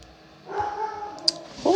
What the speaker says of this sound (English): Why is she barking like that?